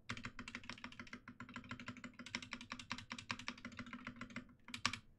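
A keyboard is typed on in a fast, steady clatter of close keystrokes, with a sharper, louder key press near the end that could be the spacebar.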